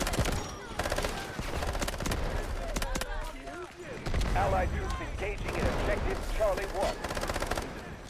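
Rapid automatic gunfire from an MP7 submachine gun in the video game Delta Force, bursts of shots recurring throughout amid other battle noise, with a voice talking over it.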